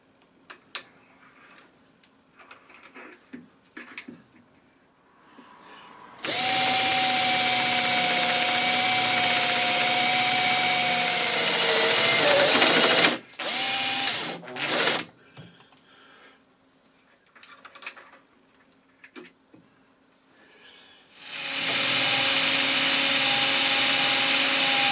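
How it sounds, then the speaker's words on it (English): Countersinking a hole in a metal headstock handle, with a steady, loud machine whine that runs for several seconds, sputters and stops, then starts again, amid quieter clicks and handling noises. "I'm putting a slight countersink on the hole"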